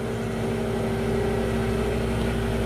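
A valve grinding machine runs steadily as its stone cuts under an oil feed, producing a constant loud motor hum with tonal whine and no pauses.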